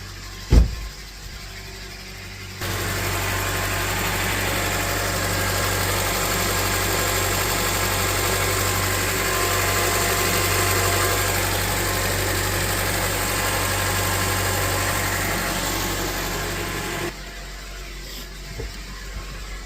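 After a click, a 2009 Honda CR-V engine, just after a valve adjustment, starts and idles steadily with a smooth, even rumble and hum for about fifteen seconds, then shuts off.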